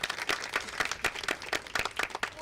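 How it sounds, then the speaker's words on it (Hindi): Scattered hand clapping from a village gathering in Sankhali, Goa, during an outdoor farmers' meeting on natural farming: irregular, uneven claps, fairly close, with no steady rhythm. "ये तालियों की गड़गड़ाहट"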